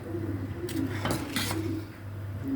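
A spoon stirring tomatoes in a cooking pot makes a few light metallic clinks and scrapes over a steady low kitchen hum.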